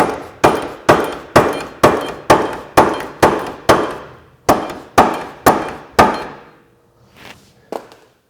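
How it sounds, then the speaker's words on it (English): A rubber mallet taps a 2-inch forward offset high clearance A-arm into place on a Can-Am Defender. About a dozen sharp, ringing knocks come in a steady rhythm, followed by a short pause and two fainter taps, with no talking. "take a rubber mallet, just kind of tap it up into place"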